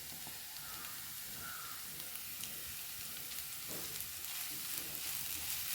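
Boiled chicken, precooked with chilli powder, turmeric and salt, frying in a hot pan while being stirred: a steady, close sizzle and hiss that runs without a break, with faint scraping from the stirring and no talk.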